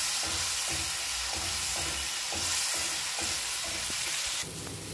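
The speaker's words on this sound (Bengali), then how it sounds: "মশলাটা কষার জন্য দিয়ে দিচ্ছি সামান্য জল। মশলাটা আমি ভালো করে কষে নেব।" Spice paste with salt, turmeric and a splash of water sizzling in a pan under a loud, constant hiss. A spoon scrapes through it in a regular stirring rhythm, about twice a second.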